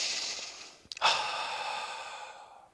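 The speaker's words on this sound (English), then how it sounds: "So take a deep breath." One deep breath, a long airy inhale, a brief catch, then a slow audible exhale close to the microphone, with no speech.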